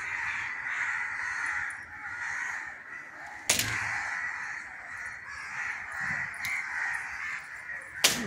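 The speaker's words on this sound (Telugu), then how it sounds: "మన టౌన్షిప్లో పక్షుల కిలకిలా రావాలి స్టార్ట్ అయినాయి." Crows cawing in the evening around a steel plant township garden, with steady calls and two sharp louder calls standing out against a continuous bird chorus.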